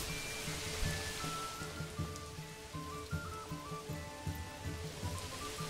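Steady rain falls in the medieval city-building game Manor Lords, a constant wash of drops behind game music with low rhythmic tones, moderately loud and continuous, with no talk.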